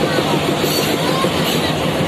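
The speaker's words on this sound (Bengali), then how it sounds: "ওই দেখো আমাদের ট্রেন চলে এসছে।" A train rolls past close by with a loud, continuous rumble and rattling clatter from the railroad cars, steady throughout without any talking.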